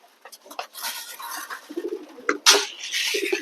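Blue satin pigeons coo in a flock while scrambling for food, soft rolling calls overlapping with brief scuffles and clatter of feeding, close and moderately loud.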